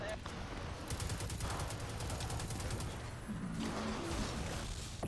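Rapid bursts of gunfire from a video game with snipers, sounding as dense rattling volleys over a busy, noisy battle mix.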